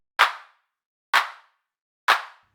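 A drum machine clap sample with reverb, programmed in Ableton Live for a minimal house track, hits three times at an even pace, each a sharp, bright snap followed by a short reverb tail, isolated against silence.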